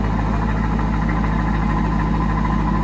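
A Chevrolet LS1 V8 with an aggressive aftermarket Corsa exhaust idles with a steady, deep, loud rumble close by, and no voices can be heard.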